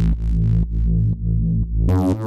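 Growler synth bass layered with a sub bass in Ableton, with a high-pass filter on the layer, plays a series of thick, buzzing sustained notes with rhythmic dips between them, ending in a brighter, harsher burst.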